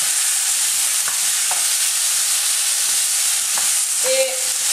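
Butternut squash curry sizzling steadily in a hot frying pan, a loud continuous hiss with a few soft scrapes and clicks of a spoon stirring, close up and without speech.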